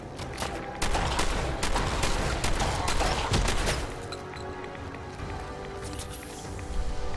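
Shotgun blasts in the video game Fallout 4: Far Harbor, a run of loud close-range shots in rapid succession against game ambience, with a quieter stretch near the end.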